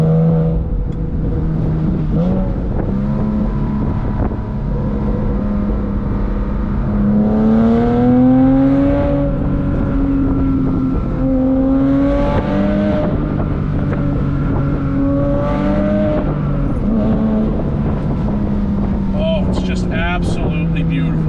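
A 2006 Porsche Boxster S flat-six climbs through the revs several times with audible gear changes between pulls, loud engine tone rising and dropping over a strong wind rush, heard from inside the open car.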